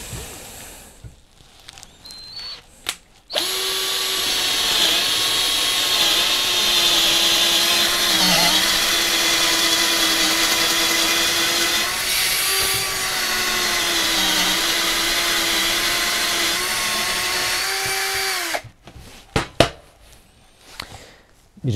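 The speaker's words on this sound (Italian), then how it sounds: "Bisogna scaricare la punta perché anche se questa è una punta di ottima qualità a doppia elica che ha già delle scanalature per scaricare la segatura" Topshak TS-ED3 cordless drill with a double-flute bit boring into wood, a steady close whine running about fifteen seconds with slight pitch dips as the bit loads, starting and stopping abruptly with quiet handling noise around it.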